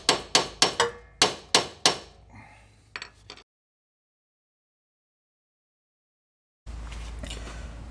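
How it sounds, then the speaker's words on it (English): A hammer strikes a Ford power transfer unit on a vehicle six times in quick succession, sharp ringing metallic hits close by, followed by a few lighter taps, then silence. "I've got my hammer here, and I'm hitting this back and forth"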